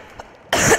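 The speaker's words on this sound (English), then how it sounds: "Sorry for the coughing, by the way." A burst of harsh coughing from someone unwell, starting abruptly after a near-silent pause and lasting a fraction of a second, loud and close.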